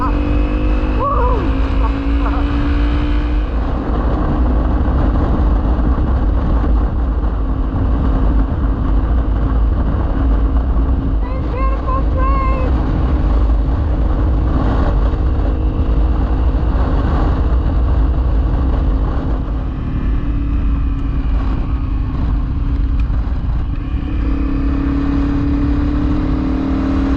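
A motorcycle rides over loose gravel country backroads in Western Australia's Wheatbelt, its engine droning steadily under constant wind buffeting and road rumble, with a rider's voice and whoops breaking in now and then.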